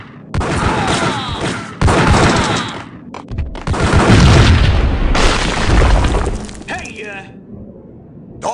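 Loud, close explosion in the action game Max Payne, a heavy boom with shattering debris and crackling gunfire that rumble on for several seconds, with speech around it.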